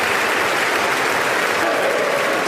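A packed audience in the US Congress chamber applauds loudly and continuously, a dense wash of clapping with faint crowd noise mixed in.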